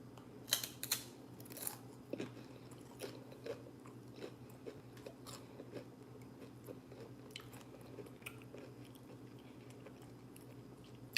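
Someone chews a piece of steak close to the mic, with soft repeated wet bites and crunchy clicks scattered irregularly over quiet room hum, no talking.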